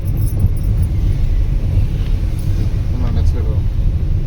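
A car engine idles and runs steadily at low rumble during a driving lesson, a constant close drone without clear revving.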